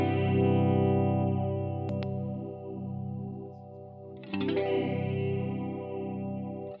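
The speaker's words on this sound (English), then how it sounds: "For this more flangey effect, which is a lot of how I had it for the bass" A sustained bass tone runs through a Strymon Deco pedal's sweeping, whooshing flanger-like modulation, with a pluck and a brief scrape partway through.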